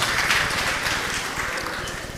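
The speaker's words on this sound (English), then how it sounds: "Let's clap our hands." Conference audience applauding, a dense, steady wash of many hands clapping at moderate volume for a couple of seconds, with no talk over it.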